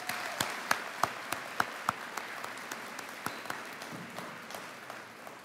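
Applause from an audience at a college awards convocation, a fairly quiet, thin scatter of claps that gradually fades over a few seconds.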